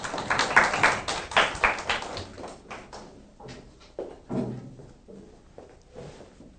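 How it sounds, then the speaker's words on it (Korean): A handful of students clap briefly in a classroom to applaud a winning team in a service design class, with a loud burst at first that thins into sparse, scattered claps and some faint shuffling. "골목대장 팀 박수 한번 쳐주세요"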